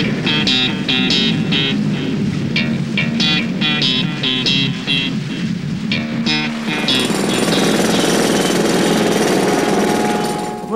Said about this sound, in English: Road drills.